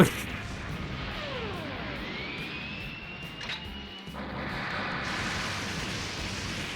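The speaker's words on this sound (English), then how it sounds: "Oh no, bullets and missiles!" Bullets and missiles fire in a Super Robot Wars 30 battle: a continuous roaring wash with descending whooshing sweeps, a sharp burst partway through, and a steady heavy rumble underneath, with no talk.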